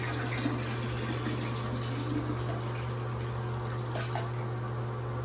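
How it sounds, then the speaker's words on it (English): Dirty carpet-cleaning water pours out in a continuous steady rush, with a low mechanical hum running underneath throughout. "let's dump this dirty water"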